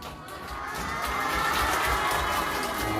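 Children at an elementary church service clap and cheer together, a lively crowd wash that builds slightly and holds steady throughout with excited voices mixed in.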